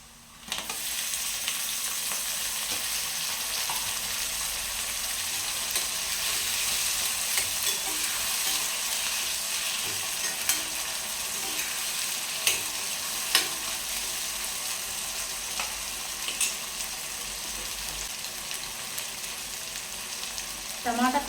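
Tomatoes and onions frying and being stirred in a pan for a capsicum tomato curry, a steady close sizzle running throughout, with a few sharp spoon scrapes and taps standing out now and then.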